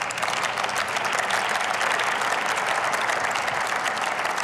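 Dense, steady applause fills the German Bundestag chamber as many people clap together continuously, sounding full and close without a break.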